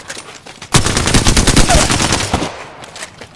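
Apex Legends gunfight, with a dense burst of automatic gunfire erupting suddenly and rattling continuously for almost two seconds before fading into quieter scattered shots, with no voices.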